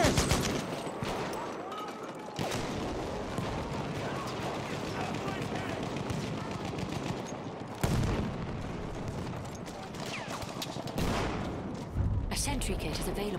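Machine-gun fire and other gunshots crackle and boom across a Battlefield 1 battle, with bursts and sharp blasts breaking into a constant din of combat and voices heard over the fighting.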